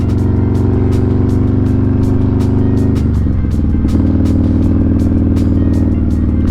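A touring motorcycle cruises at steady speed, its engine a loud, continuous low drone that shifts slightly midway and then settles back into an even rumble, with no talking.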